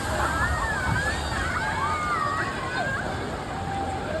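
Water sloshing and splashing out at a ride in a large water park, a continuous wash of churning water close by with faint crowd babble in the background.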